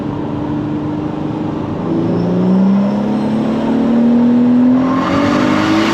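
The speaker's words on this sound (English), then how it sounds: "The noise that the turbo makes, man." A turbocharged Audi S3 8L with an R32 engine, about 550 bhp, drones steadily up close, its pitch climbing as it revs harder toward the end.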